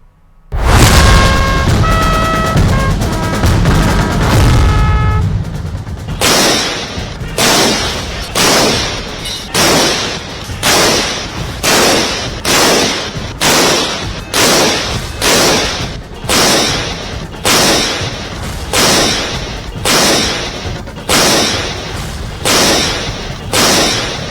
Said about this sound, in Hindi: लाल किले पर देश में बने स्वदेशी फील्ड गन से 21 तोपों की सलामी दी गई।